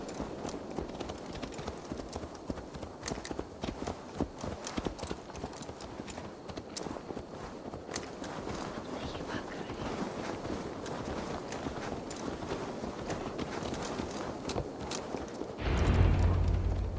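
Horse hooves clip-clopping at a steady walking pace in the video game Assassin's Creed Valhalla, with irregular soft thuds under light wind noise throughout.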